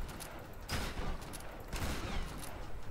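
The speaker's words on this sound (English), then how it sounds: "dia juga pakai shotgun teman-teman" Shotgun blasts sound in a Tomb Raider firefight, two heavy, booming shots about a second apart over faint background gunfire and noise.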